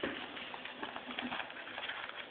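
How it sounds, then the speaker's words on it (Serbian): Soft cooing of a dove, low and gentle over a steady muffled background hiss, repeating a few times close by. "Pogledajte golubica."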